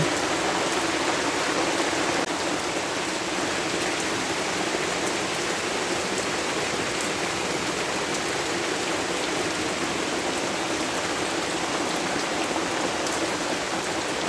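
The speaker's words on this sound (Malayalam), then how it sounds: "അപ്പോൾ പുറത്ത് നല്ല മഴ പെയ്യുന്നുണ്ട് കേട്ടോ" Heavy rain falls without pause, a thick, uniform wash of drops hissing at a steady level, with no talking.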